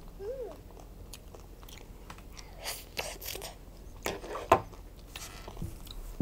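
A child bites and chews a hot dog up close, with soft wet chewing and a few sharper crunchy bites scattered over several seconds, fairly quiet against a low background hum.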